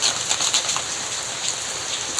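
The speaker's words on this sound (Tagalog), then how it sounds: "Umuulan kasi dito" Steady rain falls outdoors during a wet-season day, a dense continuous patter with brighter drops splashing close by, no voices over it.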